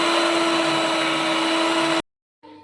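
An electric beater whirs steadily and loudly while beating eggs and oil for cake batter, then cuts out abruptly, leaving a short silence before a fainter motor hum starts again.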